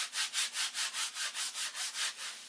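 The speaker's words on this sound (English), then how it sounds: "I'm going to sand it at an angle this way to get the taper started" Sandpaper rubbed by hand over a piece of wood to start a taper, about ten quick, even back-and-forth strokes, each a close, bright rasping swell, heard alone.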